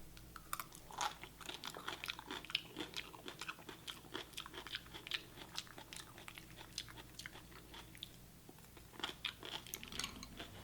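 Someone eats cold cucumber soup up close, with quiet, irregular chewing and wet mouth sounds and small crunchy bites repeating steadily with no talking.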